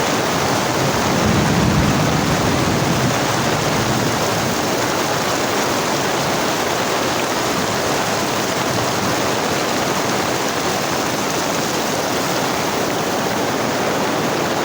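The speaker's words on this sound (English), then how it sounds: "The rain is here, my viewers." Heavy rain falls in a thunderstorm, a constant full wash of water noise that stays even from start to finish, with nobody speaking.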